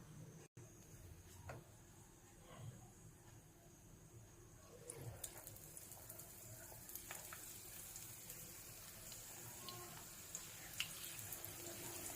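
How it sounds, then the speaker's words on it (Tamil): Battered raw banana bajji pieces fry in hot oil with a faint, steady sizzle throughout, and soft pops and crackles grow a little busier toward the end. "இப்போ ஒவ்வொரு பீஸாக இப்படி எடுத்து இதை இப்போ ஃப்ரை பண்ணி எடுக்கலாம்"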